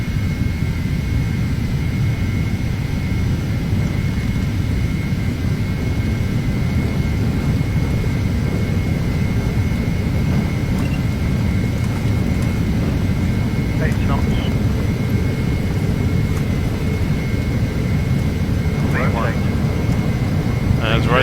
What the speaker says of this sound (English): Set takeoff power. Takeoff power is set.